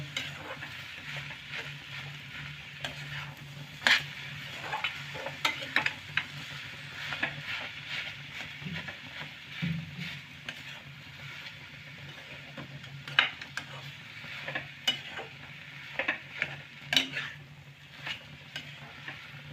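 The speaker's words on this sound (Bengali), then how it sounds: "এরকমভাবে আলু আর বিট গাজরগুলোকে একসাথে মিক্সড করে নেব" A spoon scrapes and stirs a mixture of potato, beetroot and carrot in a pan for a vegetable chop, giving irregular clinks and scrapes over a soft, steady sizzle, fairly quiet and close, with no talking.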